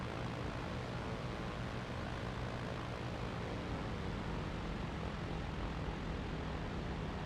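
Aircraft engine in the IL-2 Great Battles flight game taxiing after landing, a loud, steady propeller engine roar that drones continuously without pause.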